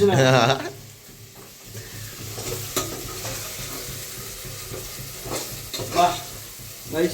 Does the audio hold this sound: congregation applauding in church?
no